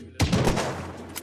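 A gunshot in the Unturned battle royale game, a loud sharp blast followed by a brief burst of further shots and rumbling echo, with no talk over it.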